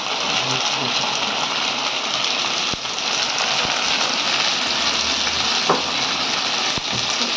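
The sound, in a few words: dried fish (shutki) frying in oil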